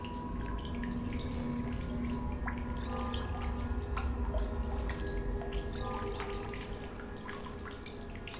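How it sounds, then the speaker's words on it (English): Flowing water in The Solus Project video game, a continuous trickling stream with scattered drips close by, alone without voices over its full length. "I'm hearing some water though."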